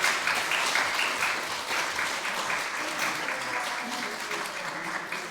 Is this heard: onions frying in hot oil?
no